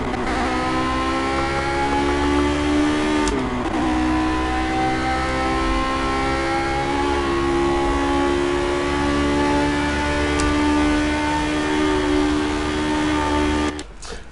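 A race car engine in the racing game Project CARS screams at high revs on cold tyres, a loud sustained whine held near the limiter with a brief gear-change dip, no voices.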